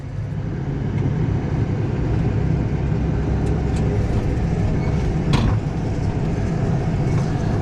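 Case IH tractor pulling a hay rake in float across a field, a loud, steady low engine rumble with continuous mechanical drone and a couple of faint clanks.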